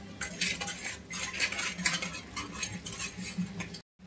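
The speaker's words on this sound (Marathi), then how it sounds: "आता चांगलं मिक्स करूया आपण याला." Chilli paneer mixture being stirred in a pan, a spoon scraping and clinking against the metal in a busy, continuous rhythm, close and fairly loud, with a faint sizzle underneath before an abrupt stop.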